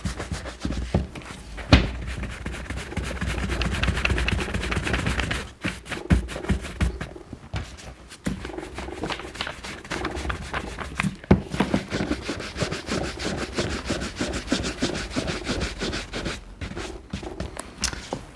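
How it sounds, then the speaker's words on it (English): Red Wing 213 leather boots are buffed by hand after conditioning. Quick, close brushing and rubbing strokes repeat in an uneven rhythm, with short pauses between passes. "we're just going to give it a quick buff and then do the wax polish to finish off."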